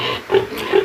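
Boar on a pig farm in Assam, tethered, giving two short grunting squeals close by, spaced about half a second apart over a low farmyard background.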